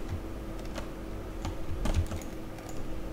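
Rapid clicking of a computer mouse while working in Unreal Engine 4, a string of sharp, close, dry clicks at irregular intervals over faint background hum.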